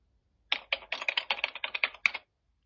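Quick, light keystrokes on a computer keyboard: about a dozen close taps in a short, uneven run, then silence.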